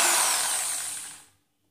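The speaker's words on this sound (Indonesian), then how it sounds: "Perlahan-lahan paskan pada titiknya dan bor." A power drill drilling holes for a hydroponic system whines steadily at high pitch, close and loud, then cuts off abruptly into silence.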